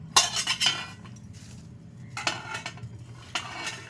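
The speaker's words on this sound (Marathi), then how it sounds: "ही भेंडी भाजण्यासाठी मी लोखंडी कढई घेतले आणि त्याच्यात आता मी ही भेंडी घालते" Okra tipped into an iron wok sets off short bursts of metallic clattering and clinking, two clusters of sharp knocks separated by a quieter pause, close by and with no talking.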